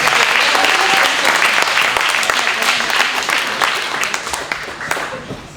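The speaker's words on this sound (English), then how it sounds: "Ladies and gentlemen, another round of applause for our colleagues." Audience applause at a Dungeons and Dragons improv comedy show, a full crowd clapping loudly and continuously, then gradually thinning and fading toward the end, with no talk over it.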